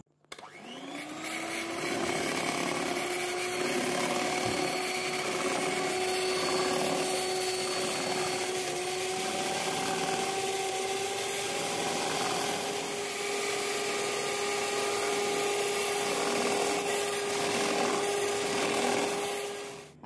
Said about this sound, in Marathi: आता हे क्रीम आपलं 10 ते 15 मिनिटं फेटून झाले।